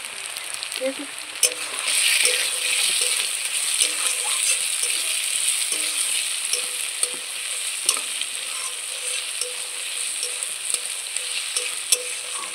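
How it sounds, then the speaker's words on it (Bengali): Onions and tomato fry in a pan while a spatula stirs them, a steady close sizzle with scraping strokes and light taps against the metal throughout. "পেঁয়াজটাকে আমি 1 মিনিটের মতো নাড়াচাড়া করে তার মধ্যে দিয়ে দেব টমেটো"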